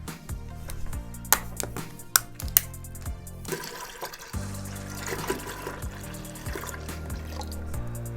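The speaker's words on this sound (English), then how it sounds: "And now the rest of our juice goes in" Fruit juice poured from a container into a fermenting bucket while home winemaking, a steady close trickle and splash of liquid running for several seconds with a few sharper knocks early on.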